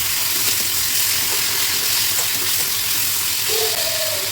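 Fried spine gourd sizzles with spices in a frying pan, a loud, steady, close hiss of hot oil with a faint clink near the end, and no talking.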